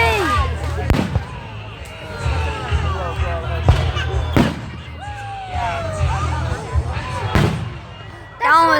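Fireworks display bursting in repeated loud booms and crackling pops, with whistling rising trails between blasts, while a crowd talks and cheers throughout.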